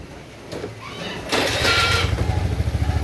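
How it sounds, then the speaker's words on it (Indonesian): A Honda Vario carburetor scooter engine is cranked by its starter and catches at about 1.3 seconds, settling into a near, steady, pulsing idle. "Oke, sudah, tinggal coba starter lagi ya."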